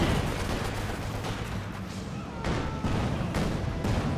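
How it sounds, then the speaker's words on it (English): Satchel charge explosion and gunfire in the World War II strategy game Company of Heroes 2, a dense rumbling battle din with heavier bursts breaking through near the end. "satchel charge thrown out there by the penals"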